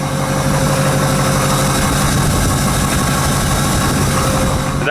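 A 2017 Ford F350 diesel engine idles steadily after a restart, a loud, constant low rumble with light vibration and no talk.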